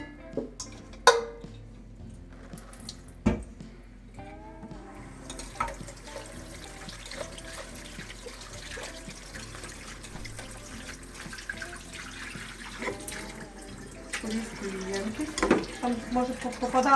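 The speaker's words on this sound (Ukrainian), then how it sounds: "і буду промивати гриби" Tap water runs steadily into a sink, splashing and trickling as mushrooms are rinsed, with clinks and knocks of handling and a loud clatter near the start.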